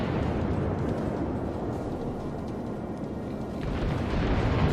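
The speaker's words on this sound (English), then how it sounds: "Fire a broadside of armour piercing at the destroyer" A battleship broadside in a naval combat video game: the Japanese battleship Nagato fires armour-piercing shells at a destroyer. A sustained, rumbling boom rolls on, and a fresh surge swells near the end.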